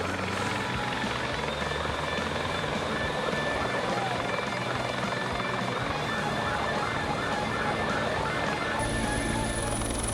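A military helicopter in a hostage rescue simulation gives a constant, loud rotor and engine roar that fills the whole stretch without pause.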